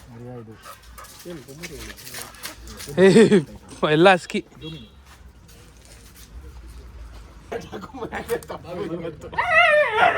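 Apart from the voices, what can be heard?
dogs barking and whimpering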